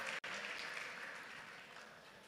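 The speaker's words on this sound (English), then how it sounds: "Let's clap for her. We have clapped, but I think we can clap again." An audience at an innovation week event in Uganda applauds a skincare entrepreneur with steady, fairly faint clapping that holds throughout, briefly cut by a short dropout near the start.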